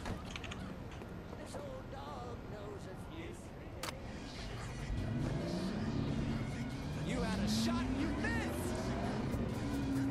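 A car engine in Saints Row: The Third drones and rises steadily in pitch as it accelerates, fairly quiet, with a voice talking over it.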